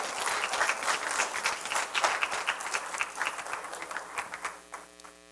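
A church congregation applauds the Lord during a Spanish-language service, bursts of hand clapping from many people with a steady electrical hum underneath, the clapping thinning out and fading toward the end.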